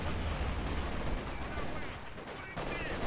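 Dense gunfire with a possible grenade blast in the Western shooter Call of Juarez: Gunslinger, loud and continuous throughout, with a brief dip before the firing resumes.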